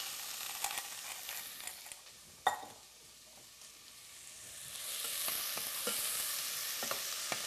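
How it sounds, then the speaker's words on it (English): Onion and garlic frying in oil in a home kitchen while collard greens and black-eyed peas are prepared, giving a steady soft sizzle with occasional stirring scrapes and clicks, moderately close and with no talk. "Now to my oil, I've got 1 onion and a little bit of garlic that we're going to put in there."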